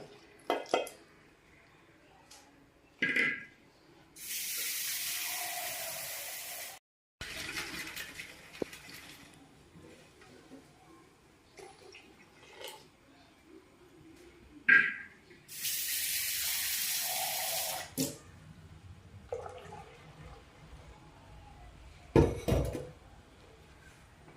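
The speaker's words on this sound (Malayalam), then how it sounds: "ആവശ്യമായിട്ടുള്ള വെള്ളം ഈ ജാറ് അടപ്പൊക്കെ നമുക്ക് കഴുകിയിലോട്ട് ഒഴിച്ചു കൊടുക്കാം" Water is poured twice in separate bursts to rinse a grinder jar and its lid, each a loud rushing splash lasting a few seconds, with quieter clinks and handling noises between.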